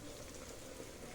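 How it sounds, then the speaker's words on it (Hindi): Steady rain falls outside a closed door during the monsoon season, a soft continuous broadband patter with no clear individual drops, moderately quiet and unbroken throughout. "पानी आ रहा है उधर से।"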